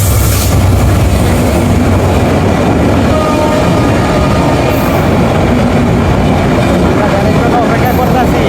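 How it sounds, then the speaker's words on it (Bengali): A train pulls into a station with loud, close rumbling and clattering of rail cars, wheels and metal noise filling the whole stretch. "তো এখন ট্রেন চলে আসছে।"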